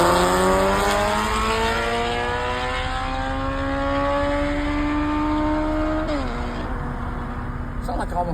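A motorcycle accelerates hard on a road, a loud engine whine rising steadily in pitch for several seconds before a quick gear change drops it and the climb resumes.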